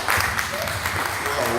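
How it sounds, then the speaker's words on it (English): Audience at a fundraiser event applauding a speaker, a steady wash of clapping in a hall blended with murmuring voices, moderately quiet and continuous. "Once more, let us give a big hand of applause to Nyake Richards."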